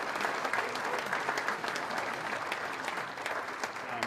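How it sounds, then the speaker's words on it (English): An audience at a hockey anniversary celebration breaks into applause for the organizing committee, a steady, fairly distant wash of clapping heard alone from start to finish. "let's give them a round of applause"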